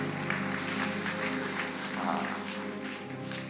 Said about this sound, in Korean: 우리 축복의 박수 한번 해줍시다